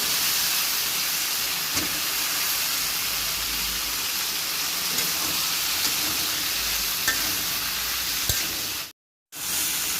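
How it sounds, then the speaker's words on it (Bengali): Jackfruit, potato and shrimp fry with spices in a pan, giving a steady close sizzle and hiss that runs on with no talk and cuts out briefly near the end. "মশলার সঙ্গে এঁচোর ভালো করে কষিয়ে নেবো"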